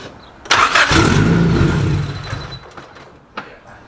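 A tuned Honda Civic engine cranks and fires up loud and close, roaring for about a second and a half before settling and fading, followed by quieter clicks and a brief knock.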